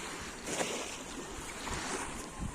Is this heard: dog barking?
no